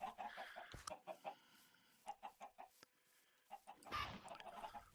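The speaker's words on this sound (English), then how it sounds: "Man, I got a lot of chickens." Chickens in the video game Minecraft cluck in short repeated bursts, several birds close by, with a busier flurry of clucks near the end and no talking.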